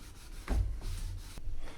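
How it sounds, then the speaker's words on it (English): Soft rubbing strokes on a wooden shelf, a cloth wiping wax back and forth in a few gentle passes, close and quiet. "as you're wiping it you can see the wood just shining up"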